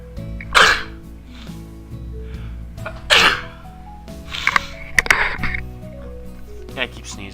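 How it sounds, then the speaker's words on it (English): A person sneezes several times in sharp bursts amid talking while playing Slime Rancher. "I keep sneezing."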